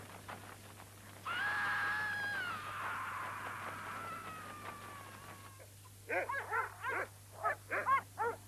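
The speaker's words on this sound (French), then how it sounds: "Si ce chien continue à aboyer comme ça" A dog in a haunted-house drama first lets out a long, wavering whine or howl, then after a pause gives a rapid series of about seven sharp barks, clear and fairly close.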